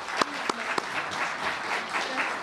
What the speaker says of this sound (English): Please join me in applauding Matt as he receives his award.